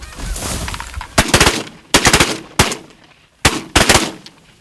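Shotgun blasts during a waterfowl hunt, a loud volley of close, sharp shots in rapid clusters, several reports overlapping, with brief pauses between bursts and a low background rumble before the first shots.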